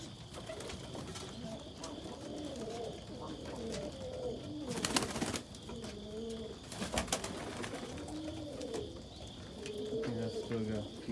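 Pigeons coo in a molting loft with feathers everywhere, soft repeated throaty coos overlapping close by, broken by two brief bursts of wing flapping or rustling.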